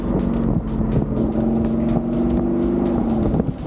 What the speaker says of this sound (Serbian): ako prebacite kao ja sad recimo u nižu, dodate gas